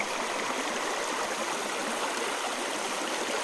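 Creek water rushing steadily through a gold sluice box dug into a blocked-off stream, a continuous close wash of splashing flow with no voices.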